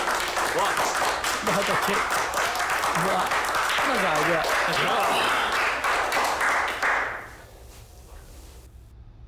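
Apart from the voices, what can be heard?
applause from a group of people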